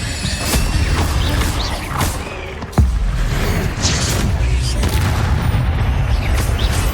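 Incendio fire spell cast in Hogwarts Legacy, a dense roaring burst of magical flame with thumping booms and a sharp crack near the three-second mark, sustained and loud throughout.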